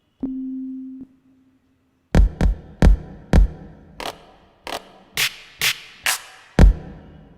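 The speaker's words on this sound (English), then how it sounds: "there are drum kits over here." A short low tone, a pause, then a series of eleven sharp, punchy drum hits in an uneven pattern, some booming, some snappy like snares or cymbals.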